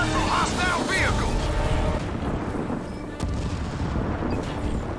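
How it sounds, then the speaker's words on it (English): Battle in the strategy game Halo Wars 2 as marines come under fire from hostile vehicles: dense, continuous gunfire and booming blasts, with radio-style unit voices speaking over the barrage. "Marines under fire from hostile vehicles."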